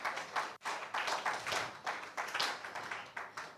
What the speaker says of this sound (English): Join me in applauding the two young investigators.